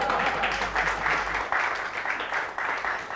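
Applause from a studio audience in a Hindi sitcom office scene, steady clapping lasting several seconds at a fairly loud, even level with faint voices underneath.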